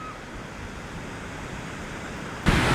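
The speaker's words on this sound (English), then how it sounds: "This is just really somewhat windy right now." Constant rushing wind noise blended with soft surf washing ashore on a Lake Ontario beach, fairly faint and even, then a sudden louder gust buffets the microphone near the end.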